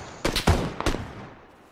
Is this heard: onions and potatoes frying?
no